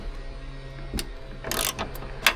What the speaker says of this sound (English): I got a 13mm socket, and the plan is to undo these things